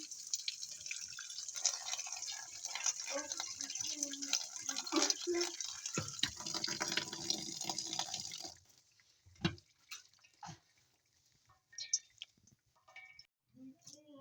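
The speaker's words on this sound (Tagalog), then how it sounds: "now we have to wash this one and then drain" Orange peels rinsed in cold water and drained, a steady rushing splash of water over peels that cuts off sharply, followed by scattered drips and light clicks.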